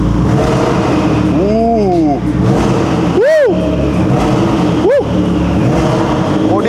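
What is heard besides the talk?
McLaren 650S engine revving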